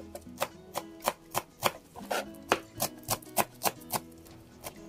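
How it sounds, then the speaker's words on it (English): Knife chopping parsley on a cutting board in a home kitchen, a brisk, steady run of about fifteen crisp close taps with no talking. "I'm going to chop the parsley."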